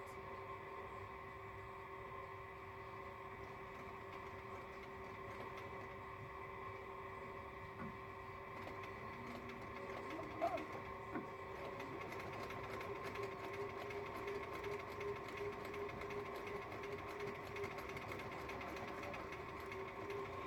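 Sewing machine stitching along the seam line of a Christmas tree stuffy, running steadily and continuously at an even hum throughout, close and moderately quiet with no talk.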